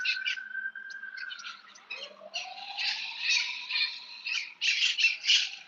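Birds squawking in a loud, busy chorus of harsh, overlapping calls, with several long rising whistle-like tones running beneath the squawks from start to finish.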